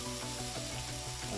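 Onion and carrots fry in a pan for egg fried rice, making a dense, even sizzle that holds steady throughout without pause, with no voices.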